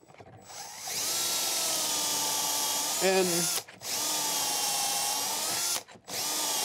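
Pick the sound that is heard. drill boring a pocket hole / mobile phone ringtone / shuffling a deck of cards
drill boring a pocket hole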